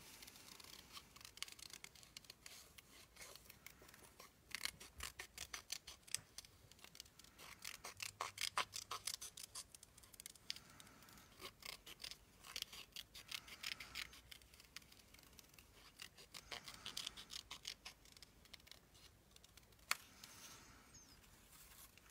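Scissors snip paper for a craft journal in quick, irregular bursts of crisp cuts with short pauses between, close and faint, with no talking.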